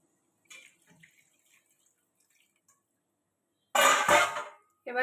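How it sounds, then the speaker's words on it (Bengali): Water pours into a pot of chicken and potato curry, a short loud splashing gush after a few faint drips and clinks in near silence, then starting again at the very end. "এবার জল দিয়ে দেবো।"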